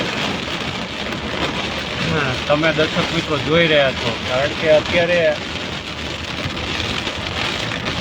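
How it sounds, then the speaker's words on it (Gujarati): Steady heavy rain with large drops hisses throughout while someone talks over it; a low rumble of thunder may sit beneath the downpour. "કાળા ડિબાંગ વાદળો છે, કડાકા ભડાકા સાથે વરસાદ વરસી રહ્યો છે"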